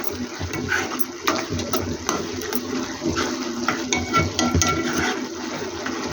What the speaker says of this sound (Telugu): కూర కలుపుతూనే ఉండాలి